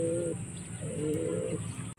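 Racing pigeons cooing close by: two low, soft, drawn-out coos a moment apart over quiet background hiss, ending in a brief knock.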